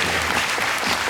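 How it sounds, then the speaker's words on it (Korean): A film festival audience at a post-screening talk claps in a thick, steady burst of applause, close and fairly loud, with no speech over it. "이쯤에서 박수"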